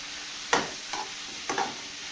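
Turmeric, chili powder and crushed peanut powder sautéed in a pan, with three short stirring scrapes over a soft, steady frying hiss; close, no talking.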